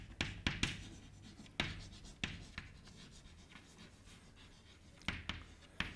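Chalk or marker writing on a board during a classical mechanics lecture, a series of sharp taps and short scratchy strokes at an irregular pace, fairly close in a quiet room.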